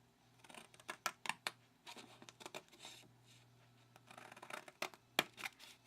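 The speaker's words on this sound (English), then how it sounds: "I'm going straight up on the score line, and then I'm cutting out the excess" Scissors snip through card stock along a scored fold line while trimming away excess, a run of crisp close cuts in quick bursts with a steady low hum behind and no talking.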